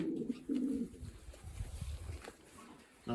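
Pigeons coo in low, throaty bursts close by, several soft rolling calls clustered near the start and again midway, with faint rustling between them.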